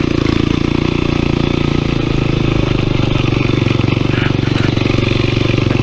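Small motorcycle, a Honda NX, riding on a dirt trail, its engine running steadily and loud up close throughout with a rough, clattering tone and no let-up.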